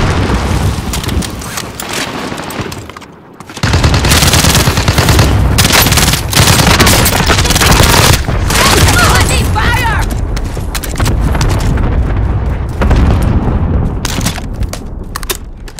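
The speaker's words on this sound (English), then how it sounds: "Allied cluster strike arrived." Cluster strike explosions and gunfire in the video game Call of Duty: Modern Warfare, a loud, dense barrage of booms and rapid automatic fire that runs almost continuously after a brief lull near the start, with no speech.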